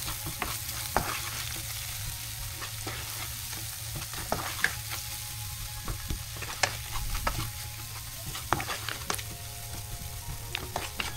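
Marinated, charcoal-smoked goat meat is stirred and fried in a pan, giving a steady close sizzle broken by frequent scraping strokes of the spoon throughout.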